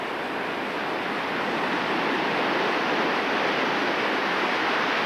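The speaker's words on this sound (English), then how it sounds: "Kind of interesting to watch the surf as it comes into the slough." Ocean surf rolling into a tidal slough in Alaska, a steady, loud wash of broken water filling the whole clip with no pauses and no voices.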